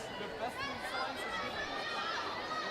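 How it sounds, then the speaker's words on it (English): Steady crowd chatter fills a packed gym on senior night at a high school volleyball match at Bishop Dwenger, a dense, continuous murmur of many voices with no single sound standing out. "What a crowd we've got here tonight at senior night at Dwenger"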